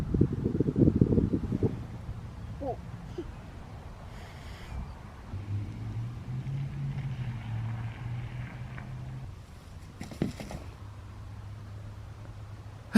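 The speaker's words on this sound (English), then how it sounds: "It's really windy now." Gusty wind buffets the microphone with a low, blustery rumble, heaviest at the start, over a steady droning hum.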